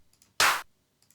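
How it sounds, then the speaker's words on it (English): A single sampled clap struck once from a drum rack, a sharp bright burst standing alone with faint ticks before and after. "say, just 2 claps."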